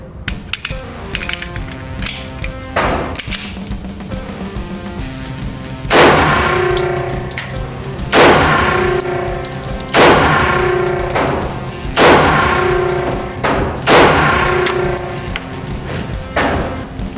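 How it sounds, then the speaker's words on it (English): A Taurus PT 1911 pistol with standard barrel fires 230 grain .45 ACP rounds at an indoor range: five loud, evenly spaced shots about two seconds apart, each with a ringing clang, after some mechanical handling clicks and clanks. "now 5 rounds of 230 grain 45 ACP out of the standard barrel of the PT 1911"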